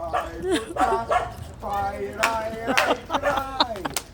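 A dog barks and yips close by in short, irregular bursts. Human voices are heard alongside and mixed with the barking throughout.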